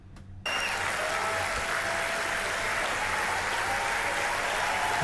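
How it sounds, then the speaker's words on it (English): A church congregation applauds during a sermon, a steady, dense wash of clapping that starts abruptly and holds at an even level to the end, with no voices. "I wouldn't be clapping here"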